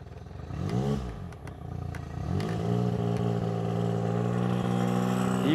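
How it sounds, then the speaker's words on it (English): An outboard boat motor in neutral is revved up from idle twice, the pitch rising and falling before settling into a sustained higher drone, close by with no talking. "You can actually rev your motor without spinning your prop."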